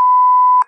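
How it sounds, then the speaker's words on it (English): A 1 kHz sine-wave censor beep from a Pro Tools shortcut, set at about -20 dB, holds one steady, unbroken pure tone for roughly six tenths of a second, then cuts off abruptly. "places a 1K sine wave at what I believe is negative 20 decibels over your highlighted region"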